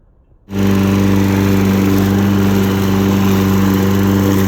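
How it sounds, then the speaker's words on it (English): A push lawn mower's small engine starts up after a brief quiet moment, then runs loud and steady nearby with an even, buzzing drone and no talking. "So basically I'm gonna clean up here and then mow the lawn."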